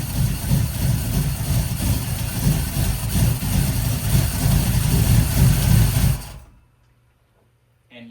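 A car engine fitted with Holley Sniper EFI fuel injection and Hyperspark ignition idles steadily and loudly at close range with a low, even rumble for about six seconds, then cuts off abruptly into near silence.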